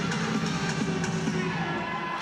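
A crowd of fans at an NC State college gymnastics meet against Pittsburgh cheers and shouts during a floor routine, a dense, fairly distant roar of voices with music-like tones underneath.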